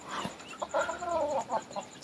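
Chickens clucking in a coop, a few close, short clucks and warbling calls in quick succession over a faint steady background hum.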